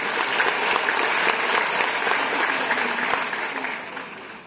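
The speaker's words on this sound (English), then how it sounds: "Let's give him a big round of applause." Sustained applause from an audience at an oath-taking ceremony for newly licensed board exam passers, a dense steady clapping that fades slightly toward the end.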